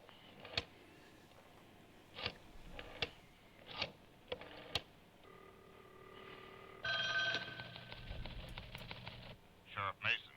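A telephone rings in short bursts of trilling bell tones in a quiet room, separated by pauses, with a few soft clicks and knocks between the rings.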